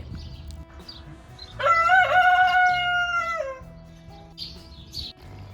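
A rooster crows loudly nearby, one long drawn-out call, with faint chirps and clucks around it, near Sauvabelin Tower in Switzerland.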